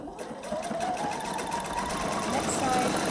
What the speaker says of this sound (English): Stitch right up to my seam allowance, stop needle down, pivot